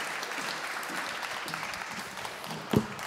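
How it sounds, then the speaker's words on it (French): Audience applause after a speaker's talk at an urban design event, a steady broadband clatter of clapping hands lasting the full stretch, with one brief louder bump near the end. "C'était Brigitte Métra, on peut l'applaudir."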